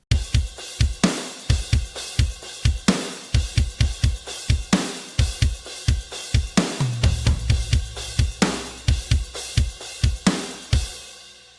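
A produced drum loop in a song with punchy kicks, hard snares and bright tambourine layered on top plays in a steady driving rhythm, loud and alone.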